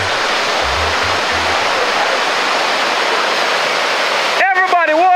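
Dunn's River Falls waterfall roaring in a steady, loud, broadband rush from start to finish, with a voice briefly calling out over the water near the end.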